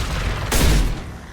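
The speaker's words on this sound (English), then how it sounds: "Taking heavy fire." Gunfire in the video game Mass Effect 2 erupts as a sudden loud burst of shots and a booming impact that lasts about half a second over steady background game noise, then cuts off abruptly.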